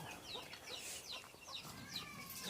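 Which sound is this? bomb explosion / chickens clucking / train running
chickens clucking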